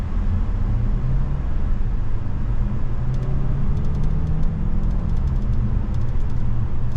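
A 2023 Kia Sportage XLine AWD plug-in hybrid driving down a road, heard from inside as a steady low rumble of road and tire noise with a constant hum, no talking.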